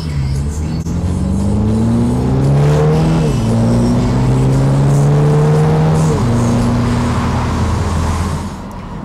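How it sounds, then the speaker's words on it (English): A 2020 Mini John Cooper Works convertible with a 2-litre four-cylinder turbo petrol engine accelerates through the gears, its loud close engine note climbing and dropping at each shift over steady road and wind roar. "Under the bonnet of the John Cooper Works is a 2-litre, 4-cylinder, turbocharged petrol engine"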